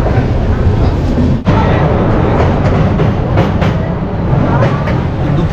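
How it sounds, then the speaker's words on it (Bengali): Passenger train running just after pulling out of Malda station, a loud, steady rumble of wheels and carriage noise inside the coach with a brief dip and a few faint rhythmic knocks on the rails. "মালদা থেকে আমাদের ট্রেন ছেড়ে দিল অলরেডি"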